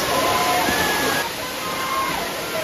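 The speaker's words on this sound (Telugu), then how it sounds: "వాటర్ సౌండ్ వినిపిస్తుందా?" Waterfall water pouring steadily in Wayanad during summer low flow, a dense continuous rushing wash that stays loud and even throughout, with no talking over it.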